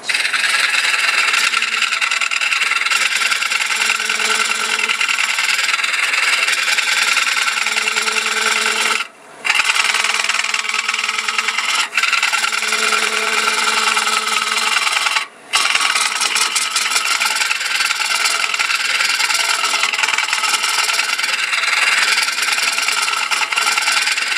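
A WR10 hollowing tool cuts into spinning wood on a lathe, giving a continuous loud rasping, scraping hiss with two brief pauses where the tool lifts off the workpiece.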